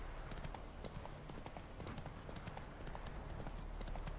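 A horse's hooves clip-clop steadily along a road in The Witcher 3: Wild Hunt, a quick regular trotting rhythm, fairly faint under a broad noisy ambient bed.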